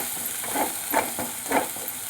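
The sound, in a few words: masala roasting in oil for egg curry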